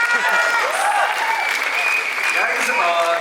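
Applause and cheering from a crowd at a Bollywood film trailer launch event, loud and continuous, with a voice speaking over the clapping throughout.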